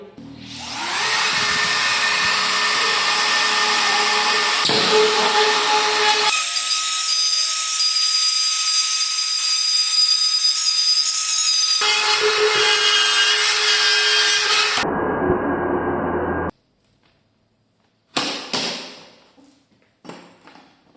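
A DeWalt DCE555 cordless multi-cutter whines loudly while cutting a round downlight hole in ceiling board, its pitch changing between passes, then stops and starts again in brief bursts.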